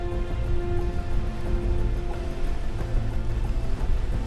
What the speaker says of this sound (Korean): 높은 파도와 함께 비까지 내리기 시작하는데요.